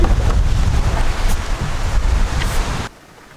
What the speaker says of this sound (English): At least it's raining